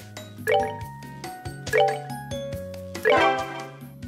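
Slot machine minigame in the video game Trails in the Sky SC plays chiming, bell-like jingles in three quick bursts, each a cascade of tinkling tones over a light musical backing.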